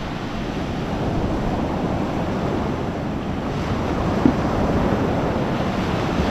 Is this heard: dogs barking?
no